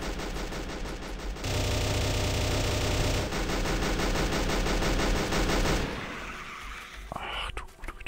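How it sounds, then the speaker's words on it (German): Gun turrets firing in the modded Factorio game, rapid continuous rattling bursts of automatic fire that pile up loudly, then break off near the end into scattered fainter noises. "Die Türme schießen sich so schnell leer."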